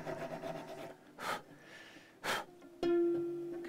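Sandpaper rubbing on Epiphone Broadway guitar bridge parts, two short rasping strokes close by, followed by a sustained tonal hum.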